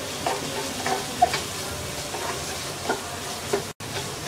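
Chopped yardlong beans and carrot fry in a pan with a steady close sizzle, broken by a few soft stirring scrapes and one brief cut-out near the end.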